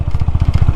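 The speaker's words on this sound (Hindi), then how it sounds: "30 से ऊपर बाइक नहीं चल पा रही" A motorcycle idles and putters slowly over a badly broken mountain road below 30 km/h, its engine beats steady and close in a rhythmic low thump with faint clatter.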